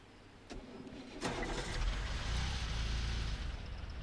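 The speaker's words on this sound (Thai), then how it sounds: "เค สตาร์ทรถ" A car engine starts in the game Last Day of June: a click and cranking, then the motor catches and settles into a steady, rumbling idle, close and fairly loud.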